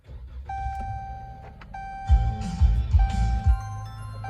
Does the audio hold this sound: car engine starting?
yes